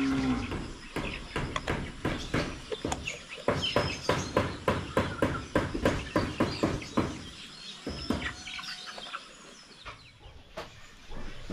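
Water buffalo (carabao) in a mountain setting mooing repeatedly in a rapid series of loud, close calls, with faint birds chirping in the background and a quieter stretch toward the end.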